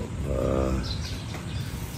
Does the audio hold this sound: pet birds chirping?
yes